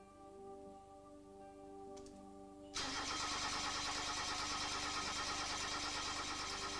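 A Toyota engine with its IGT ignition signal wire disconnected cranks without firing, the starter drawing a steady, loud, continuous drone that sets in suddenly after a quieter hum of idle electrical tones and keeps on without catching.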